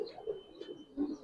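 Caged pigeons cooing softly in low, throaty bursts that rise and fall, with a few louder coos near the end; faint and close, with no talk over them.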